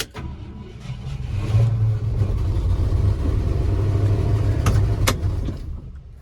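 An old Ford F-100 pickup that had sat for years runs after a jump from a booster pack, its engine rumbling and revving with a steady mid-pitched drone, a few sharp clicks and knocks near the end.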